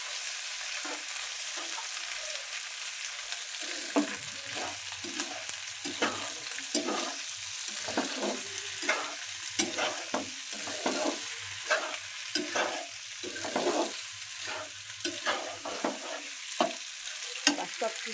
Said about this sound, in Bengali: তারপরে এই যে পাস্তা সিদ্ধ করা ধুয়ে রাখা পাস্তাগুলো ঢেলে দিলাম।